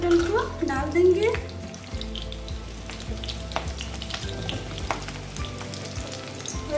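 Pointed gourd (parwal) pieces frying in hot oil in a home kitchen, giving a steady close sizzle and crackle throughout, with a brief stirring clatter early on and no talking.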